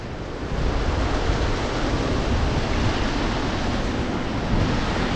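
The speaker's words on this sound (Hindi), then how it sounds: "और ये देखो, इस तरह से यहाँ पे पानी गिर रहा है।" Water falls and rushes at the source of the Saraswati river in Mana village, Uttarakhand, making a steady, loud, close broadband roar that fills the whole clip without a break. No voices.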